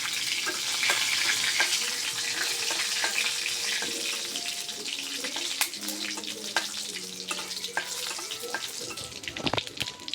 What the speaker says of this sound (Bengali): মরিচটা আর জিরাটা আমরা সুন্দর করে ভাজে নিচ্ছি